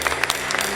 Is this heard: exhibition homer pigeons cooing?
no